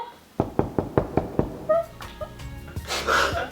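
Six quick hollow knocks in a steady rhythm on something wooden, close by, followed by faint rustling and handling noise.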